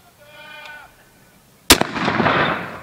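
A Confederate Morse carbine fires one loud, close shot with a sharp crack and a long rumbling tail, after a brief faint tonal sound and quiet background.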